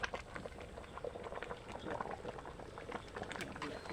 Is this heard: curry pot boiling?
yes